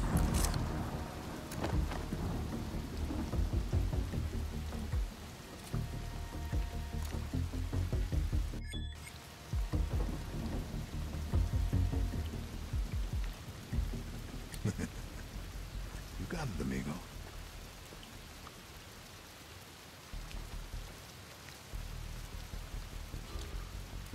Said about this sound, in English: I could do without the rain.